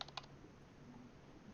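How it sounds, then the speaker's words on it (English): Brief keystrokes on a quiet computer keyboard, two or three soft clicks at the start, very faint and close over a low steady room hum, no talking. "It's a quiet keyboard"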